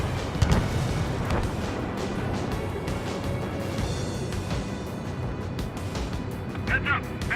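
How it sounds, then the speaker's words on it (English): Missile launch and explosion in the Ace Combat 7 jet combat game: a dense, steady roar of air combat with booming blasts, the loudest early on, and a constant rumble throughout. "Missile launched."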